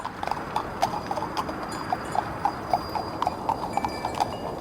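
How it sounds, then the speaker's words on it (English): Horse hooves clip-clop in a quick, steady rhythm, a continuous run of sharp strikes at moderate distance with no other sound on top. "Go horses, run! Move those damn hooves"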